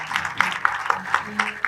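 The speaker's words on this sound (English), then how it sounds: "A big round of applause." Audience applause following a panel discussion on climate finance for African development finance institutions, a steady patter of hand claps with regular louder peaks, heard close and continuing for the whole stretch.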